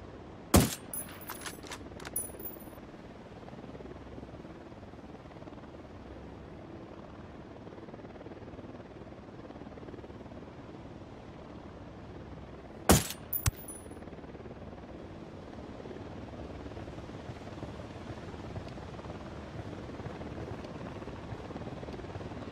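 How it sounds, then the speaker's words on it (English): Helicopter closing in during a Ghost Recon Wildlands firefight, a steady low rotor drone throughout, punctuated by two sharp bursts of gunfire near the start and midway. "Helicopter inbound."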